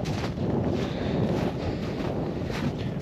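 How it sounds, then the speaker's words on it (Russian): Strong wind buffets the microphone at a tent beside a lake, a constant loud roaring rush with gusty swells and no talk. "Ветер очень сильный."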